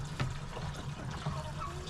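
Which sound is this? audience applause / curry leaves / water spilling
water spilling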